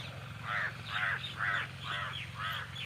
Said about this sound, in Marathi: कावळं पण